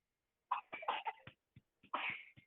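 A child's cough comes as a quick cluster of short, hacking bursts followed by a couple of further coughs, close and unaccompanied by speech.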